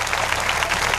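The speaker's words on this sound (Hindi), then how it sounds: "जोरदार ताली से अभिवादन होगा" Dense, continuous clapping from an audience at a Shrimad Bhagavat katha, loud and close with no pauses.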